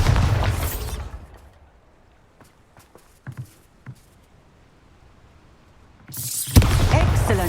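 A Bombarda explosion spell in Hogwarts Legacy bursts loudly at the start, fades into near silence with a few soft taps, then a second heavy blast erupts near the end.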